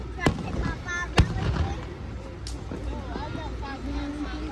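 Fireworks pop during an outdoor show, a couple of sharp bangs early on, then quieter crackle under nearby chatter and family talk.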